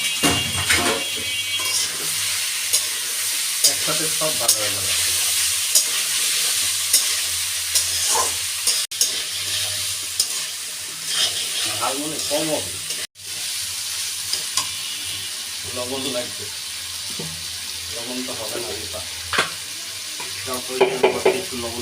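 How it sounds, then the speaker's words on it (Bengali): Chicken pieces sizzle steadily in a hot pan over a village cooking fire, with repeated scraping stirs of a spatula across the pan throughout and a brief dropout partway. "এখন দিয়ে দিব বাস চিকেন ভাজা হয়ে যাবে"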